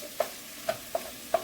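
Chili cooking in a pot on medium-high heat, with four short, evenly spaced stirring scrapes over a steady low sizzle.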